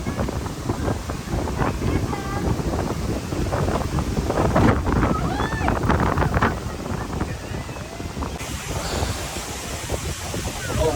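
Strong wind from a typhoon on a Boracay beach buffets the microphone in a loud, continuous roar, with voices faintly talking underneath throughout.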